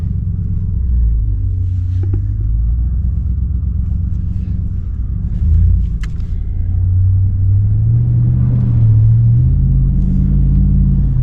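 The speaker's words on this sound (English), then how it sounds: "you drive through these puddles, man, you better have a four-wheel drive" A four-wheel drive vehicle rolls through deep puddles during an atmospheric river storm on the Northern California coast, giving a steady loud low rumble of engine and road noise with slight swells, no voices.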